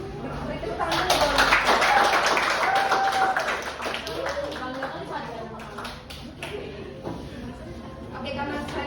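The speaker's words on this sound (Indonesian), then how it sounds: "Beri tepuk tangan dulu." Seminar audience clapping: a burst of applause from a modest group, mixed with voices and chatter throughout, tapering off as talk continues.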